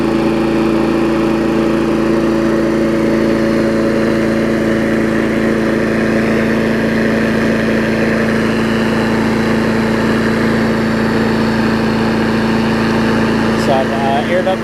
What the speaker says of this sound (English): Got a nice old MTD running again